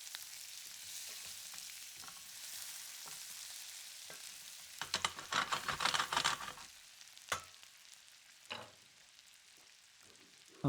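Potatoes sizzle and crackle steadily in butter in a hot pan for corned beef hash, with bursts of louder spitting and a few clanks of stirring.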